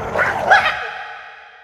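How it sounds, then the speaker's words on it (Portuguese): A large pit bull barks once, a loud close bark that trails off into a fading tail, heard alone. "Tem um pitbull enorme, meu irmão. Tem um cachorro imenso!"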